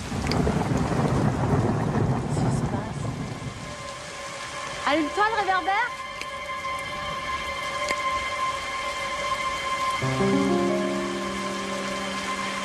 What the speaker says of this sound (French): maintenant ça suffit la pluie